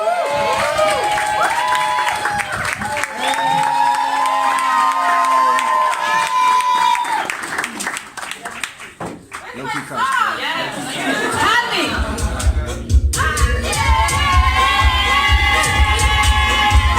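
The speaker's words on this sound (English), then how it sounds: "please give her a big round of applause" At a Trace Mobile launch event, an audience cheers, whoops and claps to welcome a performer on stage. The crowd noise is loud and lively, with an announcer talking over it.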